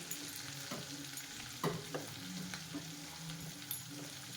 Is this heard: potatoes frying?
yes